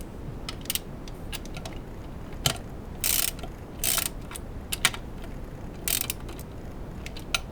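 An 18 mm ratchet tightens the mounting bolts of a rebuilt power steering pump, with short bursts of fast, close pawl clicking separated by pauses and a few single ticks.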